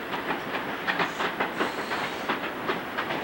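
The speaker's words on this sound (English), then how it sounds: "We're just on this train here." A moving passenger train in England, heard from inside the carriage: a low, steady rumble and hiss with soft, rhythmic clicks of the wheels on the rails.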